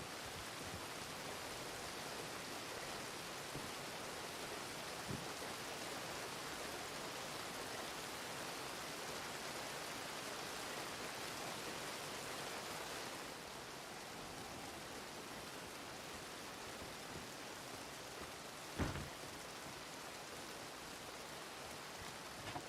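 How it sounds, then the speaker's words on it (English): Heavy rain falling, windy, a steady broad hiss that carries evenly through the whole stretch, with a couple of faint knocks and no talk. "Ah, it's raining."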